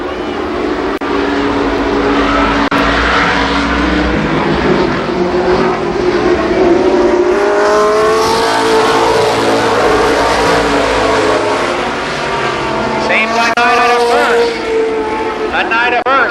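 Midget race cars roar steadily around Columbus Motor Speedway, a dense, continuous engine drone with rising and falling revs as cars pass, loud and close, under constant fast race commentary.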